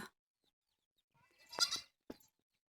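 Young goats at a tribal forest homestead in Odisha give a couple of short, faint bleats, one drawn out and one brief, separated by near silence.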